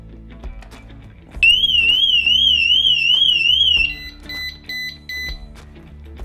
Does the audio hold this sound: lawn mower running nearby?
no